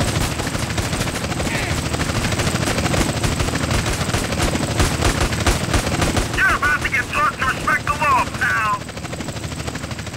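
A constant thudding helicopter rotor drone dominates in GTA San Andreas, with rapid gunfire bursts mixed in and a voice speaking briefly over the loud game noise.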